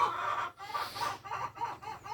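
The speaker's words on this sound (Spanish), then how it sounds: "Tuki tuki Lulu, porque ahorita va a pasar las gallinas para acá." Chickens cluck close by in a run of short throaty bursts, several calls overlapping with brief pauses between them.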